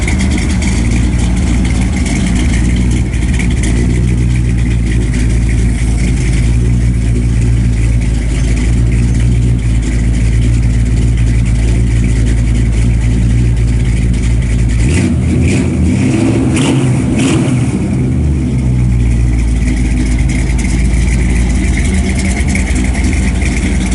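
A 1955 Chevrolet 210 Bel Air V8 with a cam, headers and dual Flowmaster exhausts idles with a deep, loud, lumpy rumble, then revs hard once before settling back to idle.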